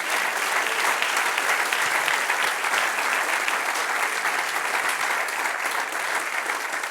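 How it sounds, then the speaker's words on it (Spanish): Church congregation applauding during a Spanish-language sermon, steady dense clapping throughout, loud and close with no voices over it. "Den un aplauso al Señor"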